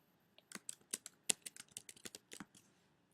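Quiet, close keystrokes on a computer keyboard, a brisk uneven run of about a dozen light clicks and taps with short pauses between, alone in a silent room.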